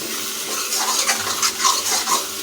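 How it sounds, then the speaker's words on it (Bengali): A spatula scrapes and stirs chicken-skin and pea ghugni in a kadai, a continuous close scraping with soft sizzling underneath and no talk. "তাই ঘন ঘন আমাদেরকে খুন্তি দিয়ে নাড়িয়ে নিতে হবে যেন না কড়াইয়ের নিচে লেগে না যায়"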